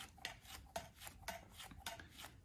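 A card scrapes upward along the side of a coiled clay cup in a series of soft, rhythmic rasping strokes, close and quiet.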